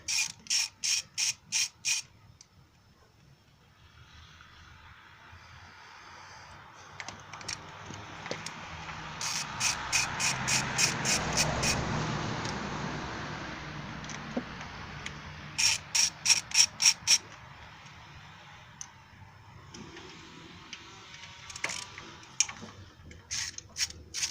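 A ratchet loosens valve cover bolts on a Suzuki Grand Vitara 2.5 L, giving repeated bursts of fast, crisp clicking close by, separated by quieter stretches of faint mechanical rustle.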